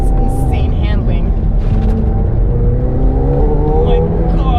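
A McLaren 720S supercar accelerates hard, its engine note a loud, continuous drone with rising harmonic sweeps, with some speech-like sound mixed in.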